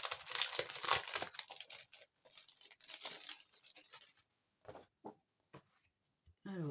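Packaging of a scrapbooking paper set being opened: loud, close crinkling and tearing of plastic wrap for several seconds, then a few brief rustles and taps of paper with pauses between.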